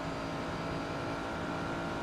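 Ferrari race car engine in a racing video game, a steady loud broadband drone with continuous high-revving tone, no distinct gear-shift breaks visible, lasting throughout.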